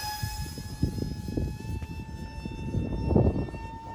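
E-Flite UMX F-86 mini RC jet on 4S power, flying a pass as power comes on: a steady electric ducted-fan whine with sustained tonal harmonics over a rumbling, gusty wind-buffeted low end, fairly close, no talk.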